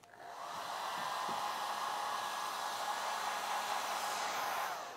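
A hair dryer blows steadily for about five seconds, drying paint used as filler in a leather scratch repair, with a loud, even whir close by and no talking.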